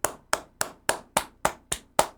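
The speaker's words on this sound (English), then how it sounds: "you can stop clapping" Hand clapping, eight sharp, evenly spaced claps at a steady rhythm, close and alone with no voices.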